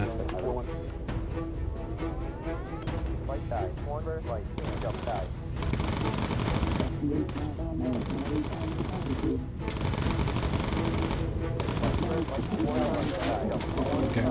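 Machine-gun fire from a bomber's turret guns in the aerial combat game Bomber Crew, a steady rattling stream over engine drone, holding loud for most of the stretch with brief gaps.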